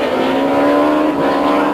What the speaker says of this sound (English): Sean van der Linde leads Deon Joubert into the last corner